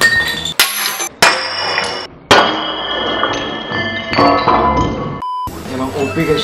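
Hard clinks, sharp impacts and ringing metallic tones come from a metal gear thrown against very thick glass, with abrupt cuts between strikes and a brief pure beep near the end.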